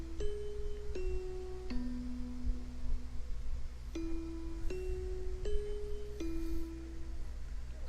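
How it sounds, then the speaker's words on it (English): Soft, soothing bell chimes from a Doki Doki Literature Club mod game, ringing alone as a slow series of clear tones, each struck note sustaining and fading before the next, with a low hum underneath. "It's probably the most soothing bell sound I've ever heard."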